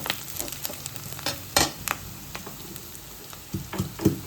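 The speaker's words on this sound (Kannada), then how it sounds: "ಚಲೋ ಫ್ರೈ ಮಾಡ್ಕೊರಿ. ಅದೆಲ್ಲ ಹಸಿ ಸ್ಮೆಲ್ ಹೋಗತ್ತನ. ಉಳ್ಳಾಗಡ್ಡಿ ಮೆಣಸಿನ್ಕಾಯಿ ಅದೆಲ್ಲ ಕೆಂಪಾಗಬೇಕು" Onions and chillies frying in a pan, a soft continuous sizzle broken by sharp scrapes and clinks of stirring, heard close and alone.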